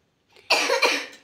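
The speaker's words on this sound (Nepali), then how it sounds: "खोकी लाग्यो।" A single short cough bursts out after a faint breath, sharp at the start and trailing off quickly, heard alone in a quiet room.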